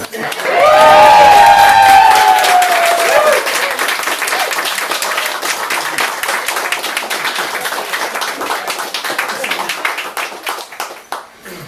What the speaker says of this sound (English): They get a second clap